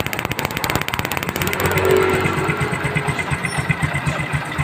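A Bajaj CT 125 motorcycle engine fitted with a Honda Supremo CDI runs close and loud, a rapid, even single-cylinder putter that swells briefly as it revs, then settles back to a steady idle.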